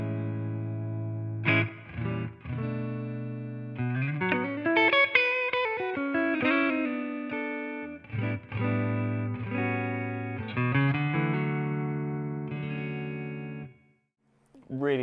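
Electric guitar played through a Line 6 Catalyst amp on its clean channel with reverb, strummed chords and single-note phrases ringing out with a spacious tail, loud and alone, with a brief pause near the end.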